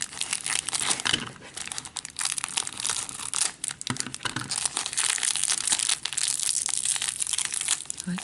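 Paper cookie treat holder being folded and taped, giving steady close crinkling and crumpling rustles throughout, with a few sharper crunches and no talk.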